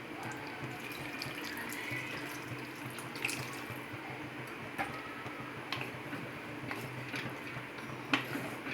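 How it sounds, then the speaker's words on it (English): Water from a glass pours into a pan of broccoli and peas curry: a faint continuous trickling splash with small clinks and taps, steady and close, with no talk. "I'm going ahead and adding 1 glass of water."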